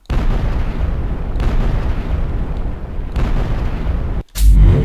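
Heavy, booming weapon fire from an Unreal Engine 4 game weapon rumbles in sustained low blasts, cut by a brief silence before another sharp, loud shot.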